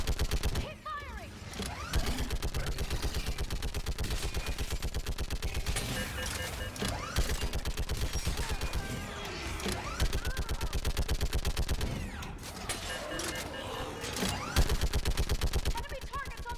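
Rapid, sustained machine-gun fire in Mass Effect Legendary Edition, loud and steady with brief pauses, mixed with combat voices shouting over the battle.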